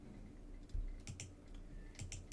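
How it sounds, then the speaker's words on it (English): A computer keyboard being typed on to enter values into trading software: a few quiet, scattered keystroke clicks in small bursts over a low steady room hum, with no talking. "You type in the pips, 25."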